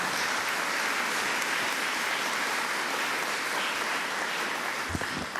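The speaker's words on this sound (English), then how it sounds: "Let's give everybody a round of applause." A crowd applauds steadily at a government funding announcement held at Suffolk Community College, dense, even clapping filling the space from start to finish.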